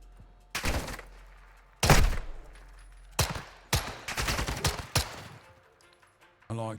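Separate pistol shots in a video game, several sharp reports spaced irregularly, some in quick pairs, loud and close with quiet gaps between.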